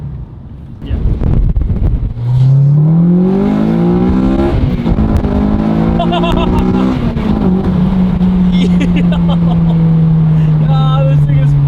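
An 8th-generation Honda Civic Si (FA5) fitted with a Hybrid Racing cold air intake accelerates hard. The engine note climbs loudly in pitch through two long pulls, heard close up with wind buffeting throughout.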